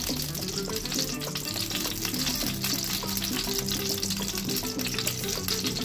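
Lamb sweetbreads fry in very hot oil in a pan, giving a dense, loud, continuous crackling sizzle with tiny popping bursts, steady from start to finish and no voices.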